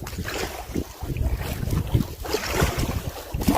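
Flat Rapids on the Larder River roar as a steady, dense wash of rushing whitewater, loud and continuous with slight surges, heard up close without any talking.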